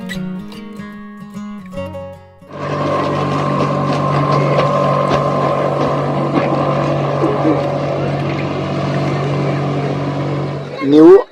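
A motorboat engine drones steadily and loudly nearby on the Kerala backwaters at Kainakary, a constant humming roar that swells briefly near the end.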